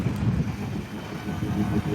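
A low, continuous gurgling rumble of a Can-Am X3 side-by-side's exhaust burbling through water at the dunes, loud and close with a rough, churning texture.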